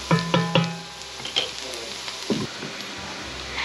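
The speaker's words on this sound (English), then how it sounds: "add a few cloves of minced garlic and saute for 30 seconds" Minced garlic sautéing in a pan with oil or butter while rabbit is cooked: a few clattering spatula knocks and scrapes at the start, then a soft sizzle with scattered stirring clicks, close and fairly quiet.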